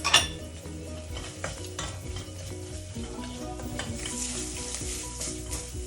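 Ground meat and tomato paste fry in a pan, a bright crackling sizzle with a spoon stirring and scraping against the pan, close and fairly quiet, without talk.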